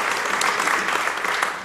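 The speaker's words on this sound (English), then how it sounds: "give her a round of applause right now" Audience applause at a university State of the University address, a dense, even roar of clapping that is fairly loud throughout and fades slightly at the end.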